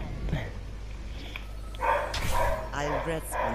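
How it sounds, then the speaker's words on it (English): A dog barks a few times, short sharp yelps at mid distance, mixed in with people talking and laughing. "now your dog's barking"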